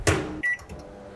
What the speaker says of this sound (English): Melt the butter in the microwave for 5 seconds.